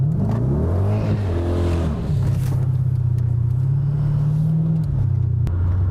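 A Hennessey-tuned 800 hp Dodge Challenger SRT8 accelerates with a deep, loud engine roar that climbs, briefly shifts, then holds a heavy sustained rumble close by, with no talking.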